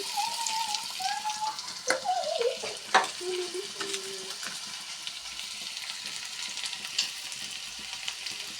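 Thinly sliced potatoes fry in a hot pan, a steady close sizzle with occasional stirring clatters and scrapes; no one speaks.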